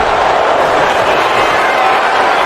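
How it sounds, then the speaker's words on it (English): Steady roaring crowd noise from a WWE SmackDown wrestling video game arena, a dense, loud, unbroken wash of cheering with no pauses, filling the whole moment with no clear voices on top. "the crowd gets hyped"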